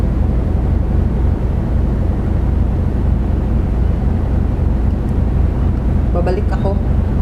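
A Samsung automatic washing machine spins in air turbo mode, giving off a steady, loud whooshing roar of rushing air and drum rotation with no change in pace, plus a few faint clicks near the end.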